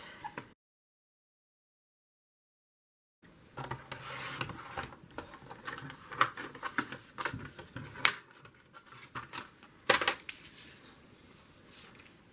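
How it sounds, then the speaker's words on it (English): A cutter slices paper for a journal page in short scraping, rasping strokes after a brief silence, close and fairly quiet, with no talk. "where's my cutter? Cut this"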